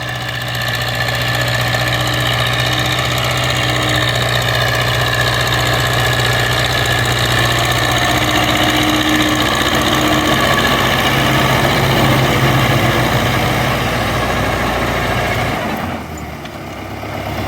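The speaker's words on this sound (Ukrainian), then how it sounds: "А юзик працює." A YuMZ tractor engine drones loud and steady at close range while pulling a plow through a wet, muddy field after rain, a constant knocking diesel rumble that eases slightly near the end.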